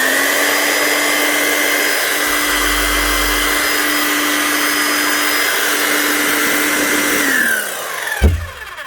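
Freshly serviced Bosch GSH 5 CE demolition hammer with its motor running free, a steady loud electric whine held for several seconds before winding down and stopping with a clunk.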